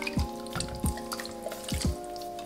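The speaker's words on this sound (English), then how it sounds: "So we're just gonna pour this in." Liquid chicken broth glugs and splashes into a pot of washed rice in a few uneven pulses, close and fairly soft, with a steady low hum underneath.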